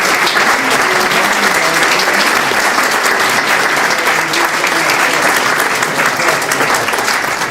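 Loud, sustained audience applause filling a lecture hall as speaker Alex Shumatoff is welcomed for a talk on the great estates of Westchester County, steady clapping throughout with no voices over it.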